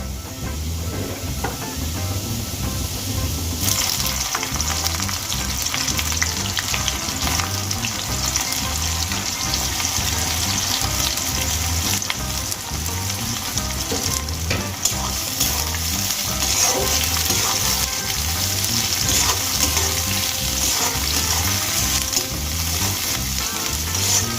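Garlic frying in a pan with chopped onion added for data shak (amaranth stem greens), a loud close sizzle with steady rhythmic stirring scrapes throughout, no talk.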